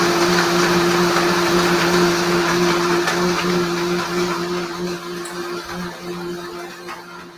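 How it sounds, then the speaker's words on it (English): A countertop blender whirs steadily at high speed as it blends a strawberry smoothie, a loud motor hum that drones continuously and eases slightly toward the end. "All right, let's blend this up."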